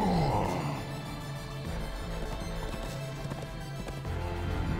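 Hooves clatter in a quick, steady galloping rhythm, with the thud of a running horse in Minecraft: Story Mode, under a layer of game music and effects.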